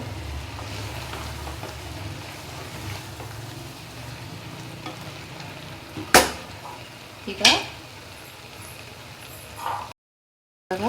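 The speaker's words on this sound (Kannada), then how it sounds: "ಇವಾಗ ಇದನ್ನು ಚೆನ್ನಾಗಿ ಮಿಕ್ಸ್ ಮಾಡಬೇಕು" Soya bean sukka, a dry Mangalorean-style dish, being stirred in a pan with a steady soft sizzle and scraping, two sharp clanks of a spoon against the pan near the end, then a sudden cut to silence.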